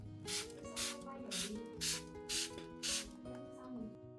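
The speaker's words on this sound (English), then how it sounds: "lightly mist around the leaves and the base of the plant to provide enough moisture and nutrients while keeping the flowers dry and fresh for longer" A spray bottle mists water onto plant leaves in seven quick, evenly spaced bursts, each a short close hiss, while background music plays softly underneath.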